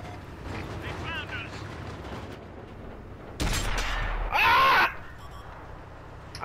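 Artillery fire in a video game: a sudden loud boom followed by a second harsh blast, set among quieter game ambience and faint background voices.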